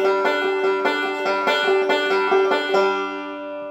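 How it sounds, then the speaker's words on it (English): Open G banjo plays a bluegrass two-measure roll, forward roll into reverse roll, in a quick steady stream of bright picked notes before a final ringing chord decays, solo and close. "Listen for that reverse roll."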